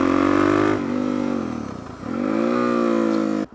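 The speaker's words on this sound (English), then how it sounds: "Now listen, you might hear the engine not pick up immediately." A motorcycle engine braking hard on a downshift, the rear wheel skidding: a loud steady engine drone dips and sags to near silence mid-way, then swells back up before cutting off.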